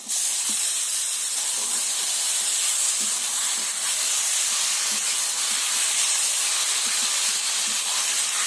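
Drained taro leaves hit a hot pan with spices, setting off a loud, continuous close-up hiss of steam and sizzle with faint crackles underneath.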